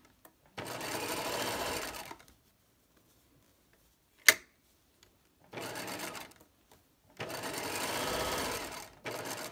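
A sewing machine stitches a pocket lining in three bursts of rapid, steady whirring, separated by quiet pauses and one sharp click, close and fairly loud with no talking.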